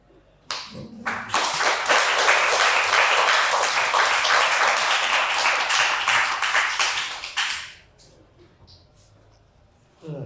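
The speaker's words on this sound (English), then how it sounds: "So I've never been clapped in the middle of anything." An audience applauds a speaker partway through his talk at a book event with Hamja Ahsan. The applause starts suddenly, holds as a dense, loud wash of many hands for about seven seconds, then dies away into quiet room tone.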